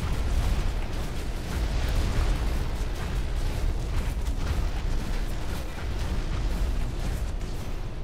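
Dense, continuous rumble of gunfire and blasts striking a mech in the game Hawken, loud and steady with scattered bursts and booms throughout, no talking.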